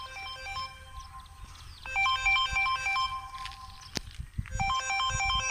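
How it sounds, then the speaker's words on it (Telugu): A mobile phone rings for an incoming call, its melodic ringtone repeating in short phrases at moderate volume with a brief gap, while faint shuffling footsteps move nearby. "ఫోన్ చేస్తున్నట్టుంది"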